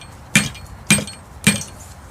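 A lamellar armor plate clamped in a vise is struck three times, each blow giving a sharp metallic clink with a short ringing tail, evenly spaced and close up.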